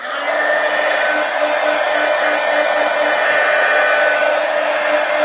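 A hair dryer blows steadily on wet paint in a sketchbook journal, a loud, continuous whirring drone at close range that holds unchanged for several seconds with no talking.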